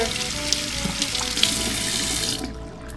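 Hot water from a newly installed Rinnai tankless water heater gushes steadily from a tap into a sink with a continuous splashing rush, then cuts off near the end.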